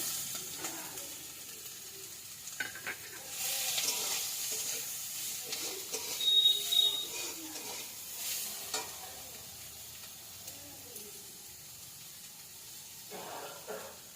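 Onion and garlic sizzle in a hot pan with intermittent stirring scrapes and clatters, the frying hiss swelling and fading over several seconds.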